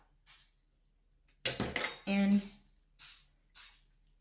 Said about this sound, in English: I'm gonna spray a spatula